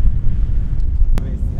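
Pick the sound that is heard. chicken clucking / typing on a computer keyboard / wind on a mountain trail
wind on a mountain trail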